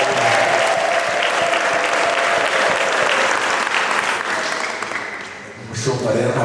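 A church congregation breaks into sustained applause, loud and close, clapping steadily for several seconds before thinning out, with voices mixed into the crowd noise.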